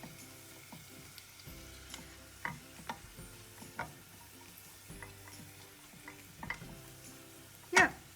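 Food being stirred in a hot pan until it browns, with a steady low sizzle under scattered clicks and scrapes of the utensil against the pan, ending in a sharper clatter.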